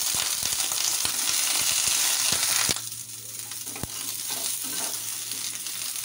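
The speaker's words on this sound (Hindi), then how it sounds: "फूल गोभी को हम पहले गोल्डन ब्राउन होने तक भून के निकाल लेते हैं।" Cauliflower florets frying in mustard oil over medium heat, a loud crackling sizzle full of sharp pops and clicks that drops to a softer, steadier fry partway through, close up with no voices.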